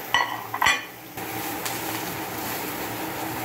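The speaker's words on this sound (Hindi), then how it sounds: "हम ये वेजी सॉटे कर रहे हैं," Vegetables for chicken manchurian are stirred in a pan, starting with a couple of sharp metallic clinks of a utensil against the pan, then a steady sizzling hiss that continues to the end, with no talk.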